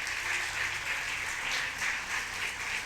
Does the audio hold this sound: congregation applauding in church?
yes